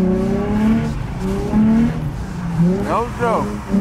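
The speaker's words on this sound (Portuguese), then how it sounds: "Só acelerando, ó. Fazendo a rotatória." A car drifts around a roundabout on a slick, rain-soaked road. The engine revs loudly and close with rising and falling pitch as the throttle is worked, and people talk over it.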